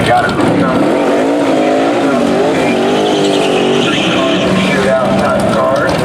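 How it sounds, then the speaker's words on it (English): A ProCharged Corvette and a twin-turbo Camaro convertible at a drag race, with loud, sustained engine roar and rising, wavering revs that fill the whole stretch, while crowd voices mix underneath. "the ProCharged Vette and the twin turbo Camaro convertible are about to go down."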